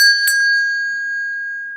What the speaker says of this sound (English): I bought one of those, like a proper kind of little hand bell.